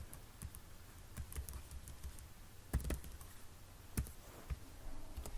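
Keys clicking on a computer keyboard as a folder name is typed on a PC, irregular taps and a few louder clacks spread over several seconds against a quiet room hum, with no one speaking.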